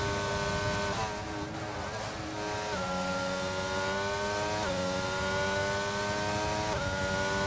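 A Formula 1 car engine from a racing video game at Monza screams loudly and continuously in high, rising harmonic tones, with gear shifts dropping the pitch every couple of seconds as the car accelerates down the back straight.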